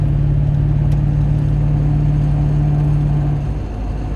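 LB7 Duramax diesel truck making an odd noise while driving, a loud steady low engine drone with a constant hum, easing slightly near the end.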